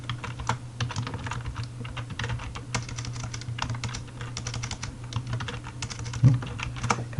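Steady, rapid typing on a computer keyboard, with dense clicking keystrokes running throughout over a constant low hum, fairly close and alone with no voices.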